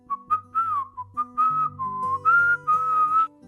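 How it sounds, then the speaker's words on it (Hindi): A woman whistles a cheerful, tuneful melody while working in a room, in short bright phrases close up over soft background music. "खुशनुमा ढंग से सीटी बजाने लगती है।"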